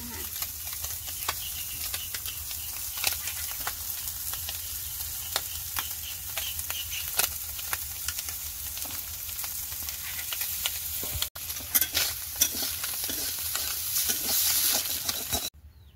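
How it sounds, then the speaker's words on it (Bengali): Fish frying in a pan with onion, garlic and green chilli, a steady sizzle with frequent clicks and scrapes as it is stirred, close and continuous without talk. "এটা কিন্তু একটু পেঁয়াজ আর রসুন কাঁচা লঙ্কা দিয়ে ভাজা ভাজা করবো"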